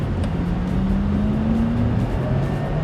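A Porsche driving and accelerating, its engine tone climbing steadily in pitch over a few seconds under steady road rumble.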